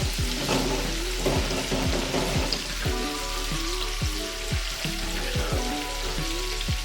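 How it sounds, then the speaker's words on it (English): Jumbo butterfly shrimp deep fry in a fryer basket, hot oil bubbling and sizzling steadily, with repeated metallic knocks and rattles as the basket is shaken, close and loud. "After it's been in the fryer for about 30 seconds, go ahead and give the shrimp a little shake"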